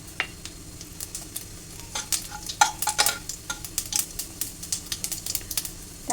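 Cumin seeds with mustard seeds sizzling in hot oil in a pan, close and fairly quiet, with scattered sharp pops and crackles over a steady frying hiss for several seconds, no voices.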